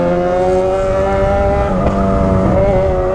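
A Yamaha XJ6 motorcycle engine revs steadily up close, its loud, sustained droning tone holding for a few seconds, rising slightly and dipping once midway.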